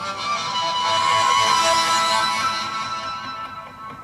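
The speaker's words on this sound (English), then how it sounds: "Another super gritty layer is this harmonic trill." Dense, gritty harmonic trill for a film score layer, a sustained buzzing wash of rich overtones that swells and slowly fades, with no voices.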